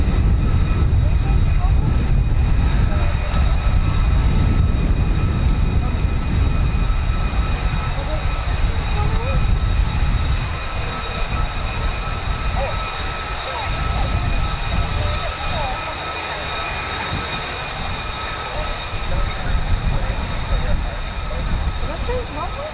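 F-15 or F-35 fighter jet taxiing at RAF Lakenheath, a loud, steady engine roar and whine filling the whole stretch, with a faint voice in the background.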